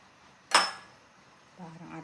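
Single sharp metallic clink of a lid set onto a cooking pot of chicken tinola, fading quickly, followed by a brief quiet voice.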